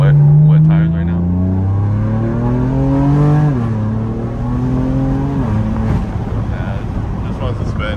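A black BMW F80 M3 Competition accelerates hard on wet tires with wheelspin. The engine note climbs loudly and close, dropping at quick upshifts, with wind buffeting over the roar.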